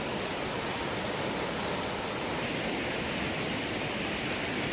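A flooded river rushes in a dense, unbroken roar of water during monsoon flooding in Konkan, loud and steady throughout with no voices.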